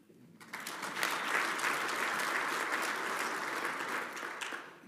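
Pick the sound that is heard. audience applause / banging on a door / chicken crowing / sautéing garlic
audience applause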